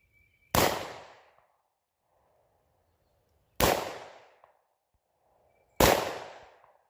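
Three loud, sharp revolver gunshots fire one at a time at irregular intervals, each with a short ringing decay and silence between.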